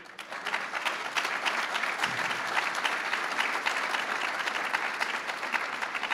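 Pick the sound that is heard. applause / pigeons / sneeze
applause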